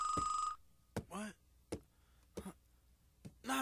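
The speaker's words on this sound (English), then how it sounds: "I hear the late bell ringing." A school late bell rings once in a short, steady electronic tone, followed by scattered bursts of speech and sharp clicks.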